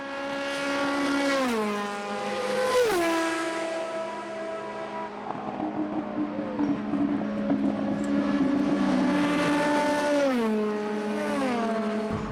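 A modern open-wheel race car lapping Road America, its high-revving engine loud and close throughout, with pitch climbing through each gear and dropping sharply on upshifts and braking, no talk over it.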